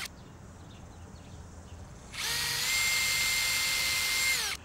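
Cordless electric drill with a 2.5 mm bit pre-drilling a timber decking board for a sandpit, a steady high whine that starts abruptly after quiet room tone and runs for about two and a half seconds before winding down.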